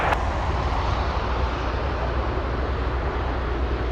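A Piper Navajo twin-engine plane takes off from runway 25 left at Anchorage airport on a windy day, its engines a loud, steady, broad roar that holds throughout.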